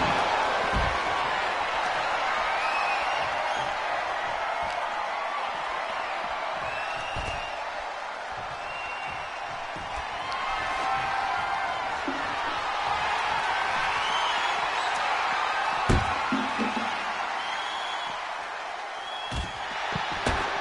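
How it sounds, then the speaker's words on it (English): Wrestling arena crowd in WWE 2K25, a continuous roaring wash of cheering and whoops from a large audience, with occasional thuds and slams from the ring cutting through the steady noise. "But you gotta love the crowd, man."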